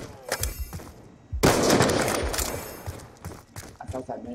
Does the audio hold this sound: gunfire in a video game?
yes